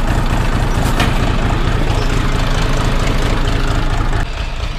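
A tractor engine pulls a plough across a field in second gear, a loud, steady low rumble with a dense throbbing pulse that holds throughout and eases slightly near the end.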